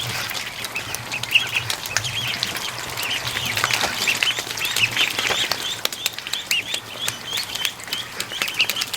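Ducklings outdoors give high, thin peeping calls in a steady scattered stream, fairly close, over a faint low background hum with no talking.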